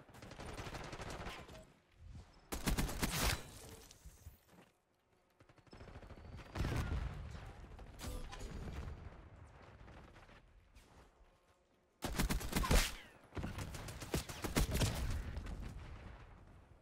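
Automatic weapon gunfire from a Black Ops 6 match, in loud sustained bursts of rapid shots broken by brief pauses, with echoing battle noise between volleys.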